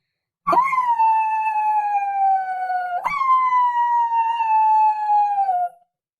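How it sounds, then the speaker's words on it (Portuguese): Two long, drawn-out howls, each starting abruptly and sliding slowly downward in pitch, the second following the first after a brief break; no barking is evident. "Finalmente, houve um alarido dos cachorros."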